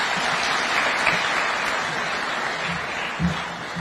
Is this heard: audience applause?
yes